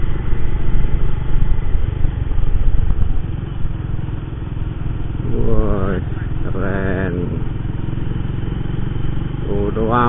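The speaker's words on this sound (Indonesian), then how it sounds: "motor mau lewat" A motorcycle engine rumbles close by on a busy town square in Wates, its low drone steady under the street ambience, with a few brief rising tones sliding upward partway through.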